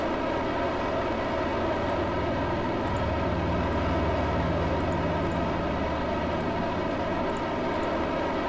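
A steady, loud engine drone from a climbing aircraft in Kerbal Space Program, a constant roar that holds without pause and with no voices.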